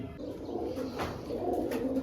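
Pigeons in a coop coo softly, with low throaty burbling calls rising and falling, close and steady over a faint background hum.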